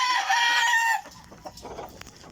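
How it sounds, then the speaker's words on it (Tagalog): A backyard rooster lets out one loud, close crow during morning feeding of pet chickens, followed by quieter scattered clucks and faint scratching. "Pakain tayo ng ating mga alagang manok."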